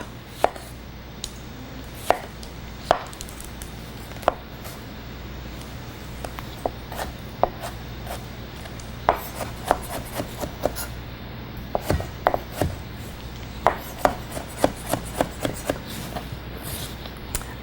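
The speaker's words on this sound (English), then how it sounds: "with my Rada French chef's knife, we're just going to give this guy a chop." A Rada French chef's knife chops a tomato on a board, giving sharp, close knocks that come sparse at first, then faster and in irregular bursts over a low steady hum, with no talking.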